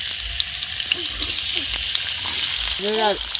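Carrot and potato frying in oil in a wok, giving a steady close sizzle with a few light clanks and some faint background voice near the end.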